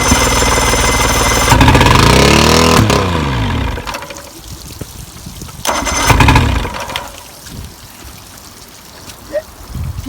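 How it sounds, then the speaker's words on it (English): Motor on a restored boat cranking and catching, a loud close roar that revs up, drops back, surges again and settles into a rougher running sound with splashing water, no talking. "once we got the motor up and running"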